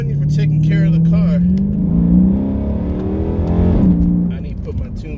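A Chrysler 300 SRT8 pulls away from a dealership, its engine loud and near, revving up with a rising whine before it eases off, while someone talks over it.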